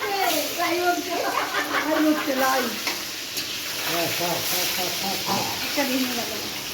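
Food frying in a pan, a steady crackling sizzle with stirring scrapes throughout, close and moderately loud, with voices talking over it.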